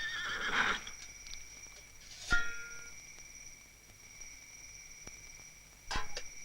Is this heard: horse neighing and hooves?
yes